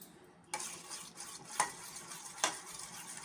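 A curd and ghee mixture for rava cake is stirred in a bowl, three distinct scraping strokes rising from a quiet background, close and fairly soft, with no talking.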